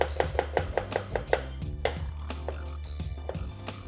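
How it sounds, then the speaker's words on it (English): Onions chopped finely with a knife on a board, a rapid, even run of close, crisp knocks that pauses briefly midway and resumes more slowly. "So you chop the onions into fine little pieces."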